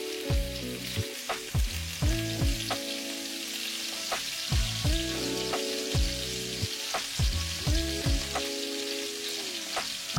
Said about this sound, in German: Sobald es heiß ist, gebt die Kartoffeln dazu, ein wenig Salz und bratet sie von allen Seiten an.